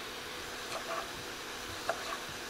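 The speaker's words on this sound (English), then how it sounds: "make sure you're browning up the ground beef" Ground beef sizzles quietly in a pan, a soft steady hiss with a couple of light scrapes as it is stirred.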